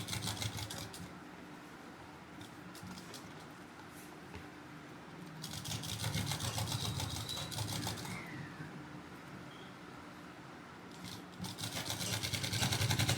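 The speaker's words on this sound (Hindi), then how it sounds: "दोनों तरफ के आसन हमारे ऐसे ही हम मजबूती से सिल लेंगे।" A sewing machine runs in bursts while stitching the seams of a semi-Patiala salwar, with a steady mechanical whir that stops and restarts several times at close range and moderate loudness.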